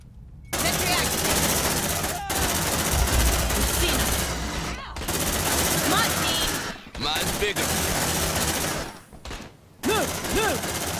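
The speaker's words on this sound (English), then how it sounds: "Deploying sentry gun." Sentry gun fire in the sci-fi video game Aliens: Dark Descent at a research station: loud, sustained bursts of rapid automatic gunfire that stop briefly and start again several times, with game voices heard now and then.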